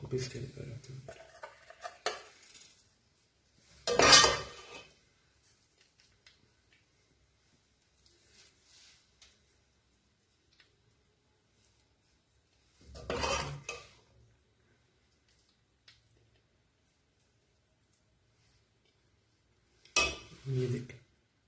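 Cooked pea pulao rice being served onto a dish, with several separate bursts of spoon and metal pot scraping and clinking spread across long quiet stretches.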